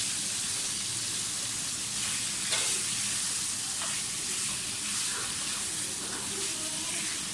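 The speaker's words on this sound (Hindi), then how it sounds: "चिकन को थोड़ा सा फ्राई करें, इतना फ्राई नहीं, इसका कलर थोड़ा सा चेंज हो जाए।" Chicken pieces frying in a pan for chicken jalfrezi, giving a steady, close sizzle with faint scraping stirs throughout and no talking.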